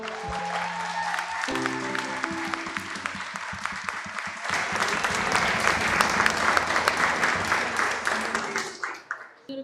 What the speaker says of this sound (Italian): Facciamo un applauso a Gesù.